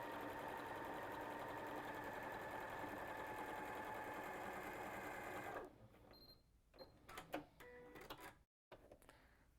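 A home sewing machine runs steadily while stitching a quarter-inch seam in quilting fabric, a continuous close mechanical whir that stops partway through, followed by handling clicks and rustles.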